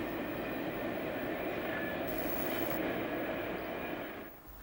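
Class 37 diesel locomotive 37146 crossing Coldrinic Viaduct in Cornwall on a misty morning, a steady engine drone and rolling rumble heard from a distance that fades near the end.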